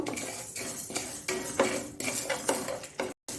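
Horse gram dry-roasts slowly over a low flame in a kadai, a spoon scraping and clinking against the metal in quick, uneven strokes, with the grains rustling between the strokes.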